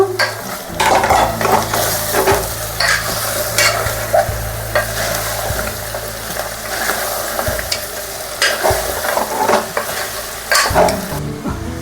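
Goat leg pieces being stirred in a pan with spices for a Telugu mutton leg curry, with steady scraping and clinking of a spoon against the pan over a continuous sizzle, close and fairly loud throughout.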